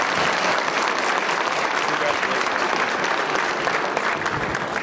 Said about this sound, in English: One big round of applause from Ms. Wong and all the journalists at China Daily